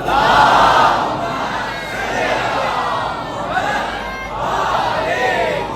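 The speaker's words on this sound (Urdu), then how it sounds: "جب یہ آپ بلند صلوات پڑھتے ہیں نا" A large mosque congregation at a Majlis gathering chants salawat aloud in unison, a loud, sustained wall of massed voices swelling in waves over several seconds with a roomy, echoing quality.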